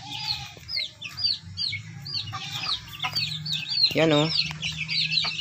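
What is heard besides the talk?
chickens clucking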